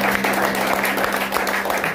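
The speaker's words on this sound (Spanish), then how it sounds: "Denle un aplauso nuevamente a Yahvé." Loud applause from a congregation fills a church service, a thick, sustained clatter of many hands with a low steady hum beneath it.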